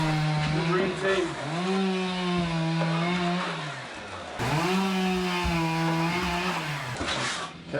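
A chainsaw runs on a building site, its engine whining and bogging steadily in loud sustained revs with no voices over it.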